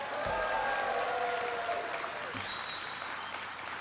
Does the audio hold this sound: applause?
yes